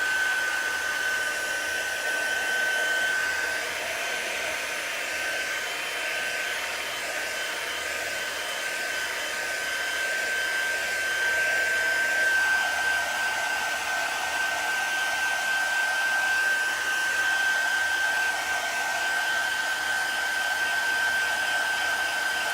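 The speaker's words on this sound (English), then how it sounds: "The reason I'm doing this with the dryer is because" A hair dryer blowing to dry ink on a wine bottle, a loud, steady whooshing hum with a constant whine, running unbroken and close throughout.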